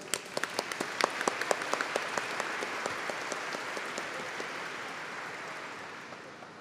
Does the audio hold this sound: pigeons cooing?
no